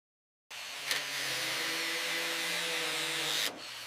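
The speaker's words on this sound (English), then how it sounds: "The wire brush brings out the natural shine of the alloy, smoothing out the imperfections on the roof." A wire brush scrubs steadily across the alloy roof of a 1957 Chevy Bel Air, a continuous close, loud abrasive hiss under a low motor drone that starts abruptly and stops cleanly after about three seconds.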